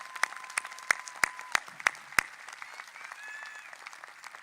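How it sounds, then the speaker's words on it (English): Graduation audience clapping, a handful of distinct, fairly sharp claps spaced out over a couple of seconds, then fading into a quieter room murmur. "Yes, you need to clap for that"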